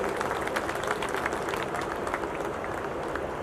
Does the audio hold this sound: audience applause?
yes